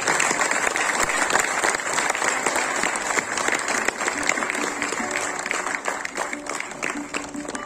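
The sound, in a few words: audience applause at award ceremony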